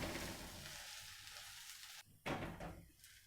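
An onion uthappam sizzling and frying in a hot pan as it is flipped, a steady close hiss that briefly cuts out and then surges back loudly, with no talking.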